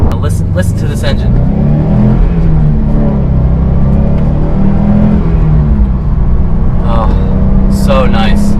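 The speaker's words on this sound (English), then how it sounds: "Listen to this engine." Hot hatch car engine revving, a loud, close, continuous rumble and whir with rising and falling pitch, with voices audible over it near the start and end.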